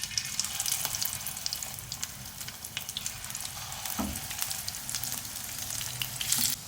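Chicken shami kebabs fry in a pan of oil over low heat, giving a steady, close sizzle with dense crackling that runs the whole time, and nobody speaks.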